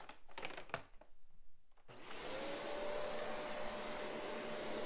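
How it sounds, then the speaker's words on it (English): A vacuum cleaner cleaning a horse half pad: some rustling and handling noises come first, then the motor switches on and whines steadily and loudly for the rest, close by and with no talk. "I'm gonna vacuum my half pad now."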